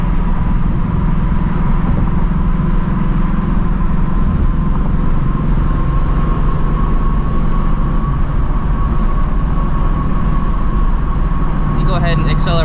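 A 2016 Shelby GT350 Mustang engine drones steadily from inside the cabin while driving and rev matching, a loud continuous rumble with a faint tonal whine and no clear revving peaks.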